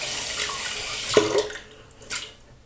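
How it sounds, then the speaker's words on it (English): Tap water runs into a sink as hands are rinsed during a safety razor shave, a close, steady splashing stream with brief bursts of louder spatter. "let me just rinse my hands"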